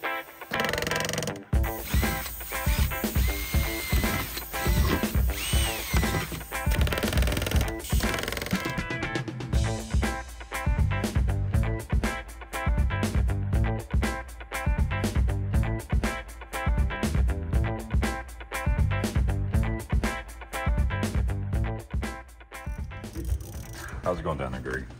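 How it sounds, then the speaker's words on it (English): A power drill bores out aluminum rivets on a crashed airplane under repair, whining in repeated bursts of high-pitched grinding with rhythmic rattling pauses, close and loud for about twenty-five seconds. "All I hear is rivets dropping in the ground, the drill going"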